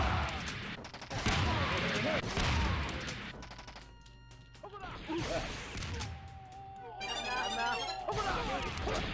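Rocket launcher firing in Doom's Alien Vendetta megawad, several loud blasts and explosive bursts mixed with other game effects, with talking between the shots.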